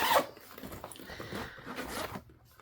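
Zipper on an item of clothing pulled open in several quick rasping strokes, close and clear, with short pauses between pulls and no voices.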